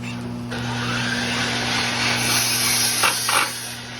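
A power drill drives a screw to tighten a wooden chair base, giving a short steady close whirring burst that strains a little toward the end.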